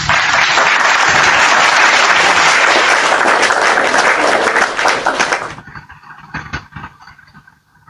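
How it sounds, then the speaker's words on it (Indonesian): Loud, dense applause from a church congregation fills the first five and a half seconds, then drops off abruptly into a few scattered, fading claps. "Tepuk tangan yang di bawah."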